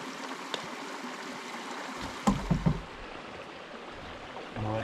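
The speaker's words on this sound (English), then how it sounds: "What a beautiful little creek" A small creek flows and trickles steadily in Algonquin Park during a canoe trip on the Petawawa, with faint water texture, a few soft knocks or paddle thumps midway and near the end.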